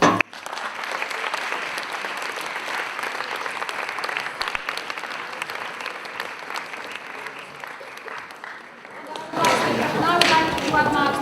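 Sustained audience applause for a debate panel at a post-16 debate show, steady dense clapping for about nine seconds, then a brief louder swell of clapping and voices at the end.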